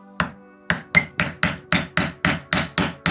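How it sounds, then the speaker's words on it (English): A hammer taps wooden pieces into place while a toy riding mower trailer is built in a home workshop: about nine sharp, loud knocks, one lone strike, a pause, then a regular run of blows, close by with no talking. "Now get your hammer and tap them in."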